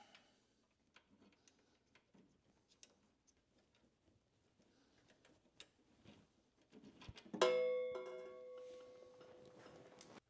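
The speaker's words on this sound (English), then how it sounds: "socket to get your top and bottom bolts off of your suspension. So just loosen those up." Quick ratcheting ticks from a 3/4 socket loosening the top and bottom suspension bolts on a Harley-Davidson bagger, close and fairly quiet, followed by a louder metallic clank and ringing near the end.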